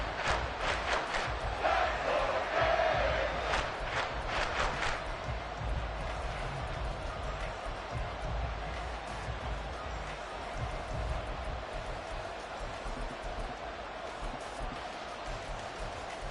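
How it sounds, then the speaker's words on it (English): A football stadium crowd roars in a sustained, distant wash of cheering during a goal-line stand, with a brief swell early on and steady noise after. "This crowd doing all they can."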